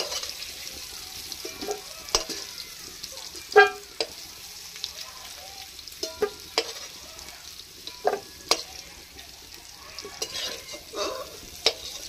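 Fried potatoes crackle faintly in an oiled pan while a spatula scrapes and knocks at irregular intervals, close and quiet, with no voices.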